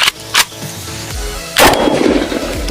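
An AK-47 rifle firing a 7.62x39 round into kinetic sand, a few loud, sharp reports spaced apart, each with a brief ringing tail, and no voices.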